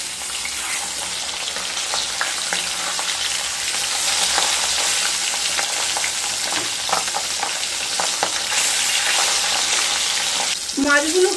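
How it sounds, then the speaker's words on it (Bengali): Katla fish pieces frying in mustard oil after being turned over, a loud, even sizzle with scattered spatters and utensil clatter near the end, no speech. "এবার উল্টে দেব।"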